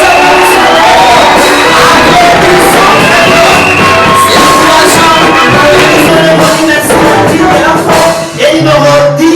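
A loud crowd at a Christmas Day celebration cheers, shouts and whoops continuously, with clapping mixed into a dense, sustained roar that holds for the whole stretch.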